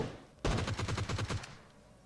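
A rapid burst of automatic gunfire, about a dozen shots in quick succession, loud and close, then cutting off abruptly.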